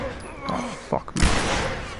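Gunfire in the video game The Last of Us, with a few quick shots heard amid a player's talking.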